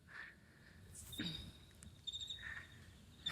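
Crickets about three weeks old in a cricket farm shed raised for human food, giving a few faint, scattered chirps and high trills over low background hum.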